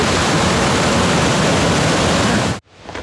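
A waterfall in the Aksaut mountains roars as a loud, dense, steady rush close by, then cuts off abruptly near the end.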